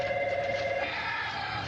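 An old landline telephone bell rings steadily in an indoor domestic scene, loud and close, with no talk over it.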